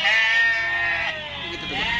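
Sheep held at a quarantine station after being trucked from Medan bleat loudly and close, several overlapping wavering calls running through the whole stretch.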